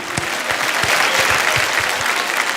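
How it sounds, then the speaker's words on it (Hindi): Loud, dense applause from a large award show audience at IIFA 2023, a steady wash of clapping with a few sharper claps standing out, sustained throughout. "दोस्तों इनके लिए वो जोरदार तालियां।"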